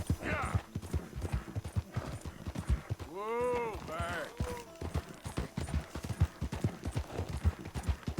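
A horse gallops in Red Dead Redemption 2, hooves clip-clopping in a fast steady rhythm throughout, with a short neigh near the middle and some game sounds mixed in.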